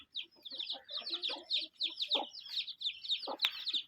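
A hen clucks in a steady run of rapid, bright calls, close and fairly loud, with a few lower scratchy sounds between them and no talk.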